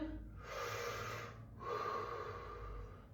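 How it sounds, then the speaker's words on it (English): Two deep, slow breaths drawn in through the mouth during a guided fascial exercise for kids in a squat, each a broad airy rush lasting about a second, close and fairly loud, with no talking. "In through the mouth, out through the mouth. Breathe in."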